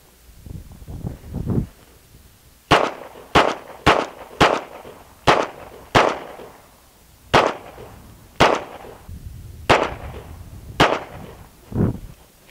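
Gunfire at rubber dummies from 9mm, 5.56 and 12 gauge double-aught buckshot, about a dozen sharp, loud reports spaced roughly a second apart, preceded by soft rustling and handling noises.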